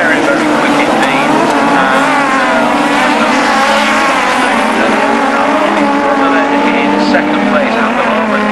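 VW Beetle race cars at Cadwell Park circuit, a loud, continuous buzzing engine roar at high revs as they race past, with a commentator talking over it throughout.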